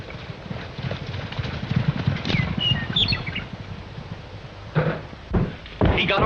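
Horse hooves clip-clop in a rapid galloping rhythm in a 1936 Western film, close and fairly loud, with a few chirps and scattered louder thuds near the end.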